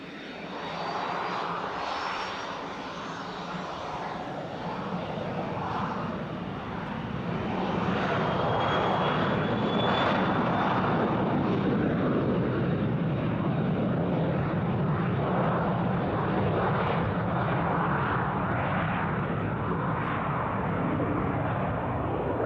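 A Cessna Citation jet takes off from a runway at an airport, its engine roar steady and loud and building slightly, with a faint whine above it and no talk.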